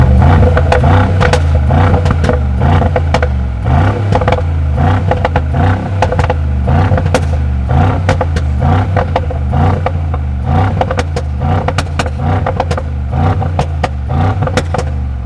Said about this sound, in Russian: Давайте я заведу тачку и покажу вам, как же круто звучит Г63, новый кузов на Спорт Плюсе и выхлоп Акрапович.